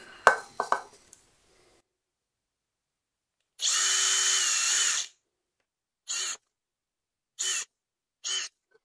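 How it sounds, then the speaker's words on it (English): Power drill bursts drilling holes for nylon screws in a sound recorder kit build: one long whine of about a second and a half, then three short quick bursts, with a few handling clicks at the start. "And we just drill through."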